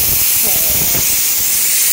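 A pressure cooker with pumpkin inside lets off steam in a loud, steady hiss that runs without a break through the whole short stretch, with faint kitchen noise underneath.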